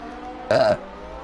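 A man lets out a single short, tonal burp during sim-racing commentary, loud and close against a faint, quiet background.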